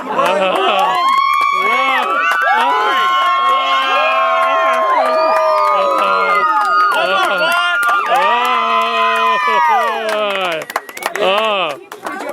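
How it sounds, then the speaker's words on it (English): Wedding guests at a cake-cutting cheer, whoop and shout loudly and continuously, with high excited voices calling out together and little sign of clapping. "Round of applause!"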